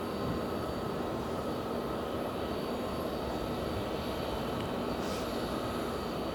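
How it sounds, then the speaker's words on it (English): A former Horizon jet, now flown by SkyWest, roars steadily at Phoenix airport, a constant broad engine rumble and whine holding at moderate distance with no talk. "Here's this former Horizon jet again, now operated by SkyWest."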